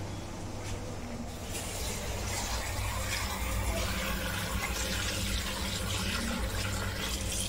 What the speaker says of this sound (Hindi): तो मैं अब इनको धोऊंगी